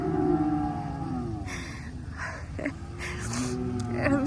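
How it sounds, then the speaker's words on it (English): Cattle in a cow lot lowing, a drawn-out deep moo from near by, sustained over a low rumble with faint background noise and no talking. "I'm sitting in a cow lot right now, right outside of it"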